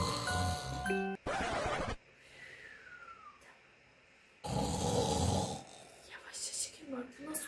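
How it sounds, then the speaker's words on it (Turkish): Two loud, rasping snores in the video game PK XD, separated by a quiet pause, with electronic chimes and tones around them. "Horlama sesi geliyor."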